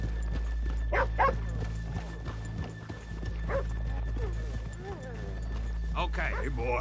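Horse hooves clop at an easy pace beneath people talking in Red Dead Redemption 2, with a horse snorting and a dog yipping now and then.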